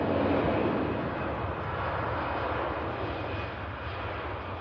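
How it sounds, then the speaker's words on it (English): Ryanair airliner jet engines roar steadily on the runway at an airport, a loud, continuous broadband rumble with slight swells, no voices. "That's followed onto the runway by the Ryanair on the way out to Dublin."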